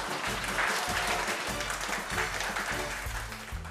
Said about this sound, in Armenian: Ծափարում ենք